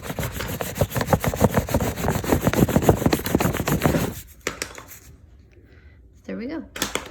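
Crayon with its paper peeled off rubbed back and forth on paper laid over a leaf, a loud scratchy rhythmic scraping that goes on for about four seconds, then stops, with a short burst of rubbing near the end.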